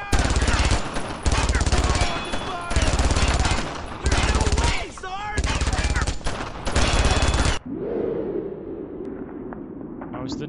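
In the Brothers in Arms video game, an enemy machine gun fires long, loud, close bursts separated by short pauses, then stops, leaving a lower rumble and ambient battlefield noise.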